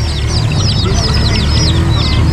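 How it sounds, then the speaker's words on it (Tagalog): A batch of small chicks at an outdoor pet market peeps continuously in a dense, high chorus of overlapping cheeps, loud and close over a steady low rumble of crowd noise. "Ito mga boss, nakakita ako ng sisiw oh."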